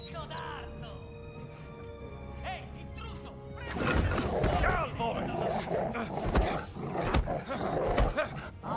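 Dogs growl and bark in an Indiana Jones video game fight, heard as snarls and rough bursts mixed with crashing impacts and game music, while someone talks over the action.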